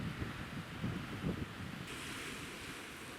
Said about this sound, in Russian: В этот день дул сильный ветер, на озере поднялась волна